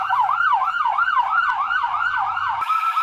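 A toy emergency vehicle's electronic siren wails in a steady, rapid up-and-down warble, loud and close, running alone for several seconds before switching abruptly to a different tone near the end.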